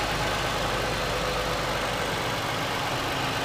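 A 2009 Toyota Venza's 3.5-liter V6 idles under the open hood, a steady, even hum and whir that holds constant for the whole stretch.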